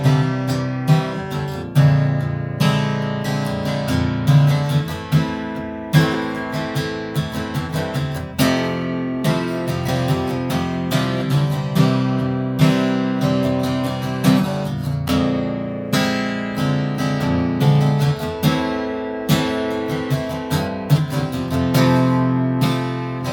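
A 1960s-style Gibson J45 acoustic guitar in Pelham Blue, with an adjustable saddle, long pickguard and VTC system, is strummed and picked in a rhythmic, ringing pattern of chords and single notes, close and alone.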